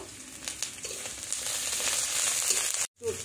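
Spices sizzle steadily in a hot pan, whole cumin among them, a dense close frying hiss with small crackles that cuts out briefly near the end before resuming.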